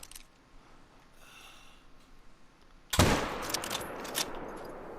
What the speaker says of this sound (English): So shot him with the 7 mil